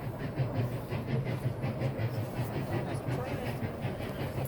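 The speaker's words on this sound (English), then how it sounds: "The other train is coming." A steady rumbling roar of a train rolling along the rails at the Dollywood theme park, continuous and even throughout, with faint voices underneath.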